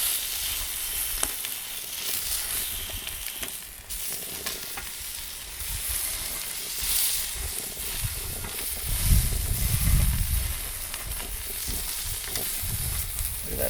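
A steak's fat cap sears on a hot Weber Q griddle, giving a steady crackling sizzle that swells louder around the middle, close and continuous with no talking.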